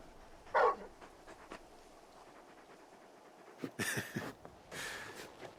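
Torgal, a very large dog in the Final Fantasy 16 video game, gives a few soft whimpers and pants, faint and intermittent, with brief louder snuffling bursts between quiet gaps.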